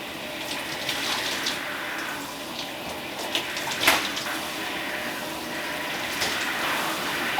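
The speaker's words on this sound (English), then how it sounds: "I'm now using cool water because I want to seal the cuticles of the hair." Cool water runs steadily from a tap while hair is rinsed, a continuous close hiss and splash with small spatters and no talking.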